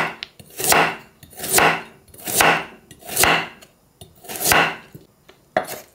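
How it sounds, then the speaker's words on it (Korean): A knife julienning a carrot on a cutting board into long thin strips, six sharp, evenly spaced chopping strokes landing about once a second, close and crisp. "길게 채 썰어요."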